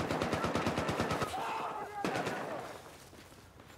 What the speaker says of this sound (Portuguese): Parece haver uma metralhadora hostil.